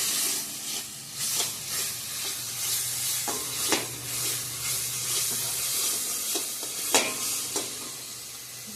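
Spice paste frying in oil in a home kitchen for a Bengali curry, a steady close sizzle and hiss with a few sharp stirring scrapes and clinks against the pan, no voices.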